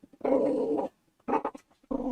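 A dog growls and grumbles right into a microphone in two bursts with a pause between, then starts up again near the end, close and fairly loud.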